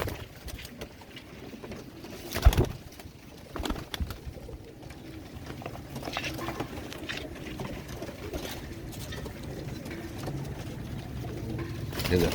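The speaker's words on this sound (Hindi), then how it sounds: "ये देखो, ये पहचानो किस किस के हैं कबूतर भाई।" Soft pigeon coos come from a loft of kept pigeons, low and fairly close over a quiet background, with one brief sharper knock partway through.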